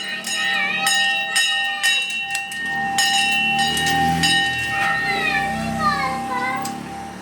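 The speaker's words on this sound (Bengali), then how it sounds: "এই ঘন্টাটা বাজিয়ে দিই" A handheld brass puja bell rung rapidly during a morning worship, a bright ringing tone struck again and again in quick succession that sustains and overlaps, with a faint voice in the background.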